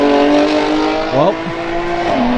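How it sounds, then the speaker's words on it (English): A supercharged VQ engine revs loudly nearby, holding a steady high drone, then a quick pitch swoop and blip as it shifts, settling again before dropping near the end; a voice can be heard briefly over it. "that's what a supercharged VQ sounds like"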